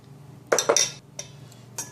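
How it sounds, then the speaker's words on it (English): A spoon clinks against a bowl while stirring tomato salsa made with salt, lemon juice and olive oil: two quick clinks close together, then softer taps, all near and crisp. "then we can stir it"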